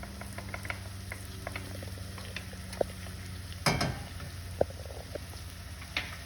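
Smoked paprika tipped into a sizzling pan for shakshuka, giving a quiet steady crackle with a louder rustling burst partway through and a few small clicks, no talk.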